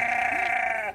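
A goat at a zoo gives one loud, sustained, wavering bleat lasting nearly a second, heard up close and alone.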